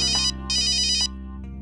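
A phone ringtone sounds for an incoming call from Harman Mama: two loud, bright electronic bursts in quick succession over a steady low tonal backing, then a quieter continuing tone.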